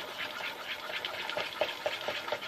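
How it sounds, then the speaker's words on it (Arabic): Crème fraîche being stirred into cooled chocolate sauce, a soft wet sloshing and scraping repeating in a steady rhythm, close and fairly quiet, with no talking. "نحكم شويه من لا كريم فريش، نخلط نورمال"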